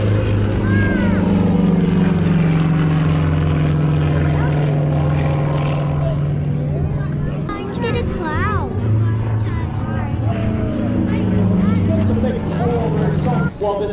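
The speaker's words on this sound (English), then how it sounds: "That's a cool airplane." A light piston-engine propeller airplane with about a 21-foot wingspan and 2,200-pound gross weight drones steadily and loud at a show, its low buzzing hum running throughout while people talk over it.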